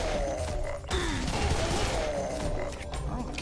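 Pistol fire in the shooter game Serious Sam 3: BFE, a dense, chaotic stretch of shots and impacts blended with grunting enemies and game effects, fairly loud throughout with no clear pauses.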